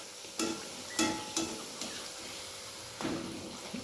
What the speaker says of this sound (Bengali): দু পিঠ উল্টে পাল্টে ভালো করে ভেজে নিতে হবে